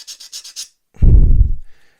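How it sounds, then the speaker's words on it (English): A quick series of five light scratchy strokes, then a longer, heavier rasping rub as a fine sanding stick works against a plastic truck cab part of a scale model kit, close up. "It is just a fine sanding stick I'm using."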